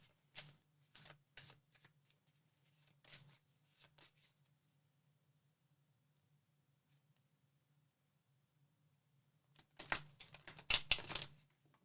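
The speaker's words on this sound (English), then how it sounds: "I would just shuffle the cards" Tarot cards are shuffled in quick soft riffles and flicks, quiet and close, with a longer pause before a denser burst of shuffling.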